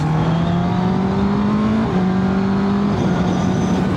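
A 2025 Honda CB650R with E-clutch accelerates hard in third gear. Its loud, steady engine note climbs and then drops briefly twice at quick shifts, heard from the rider's position with wind noise and no talking.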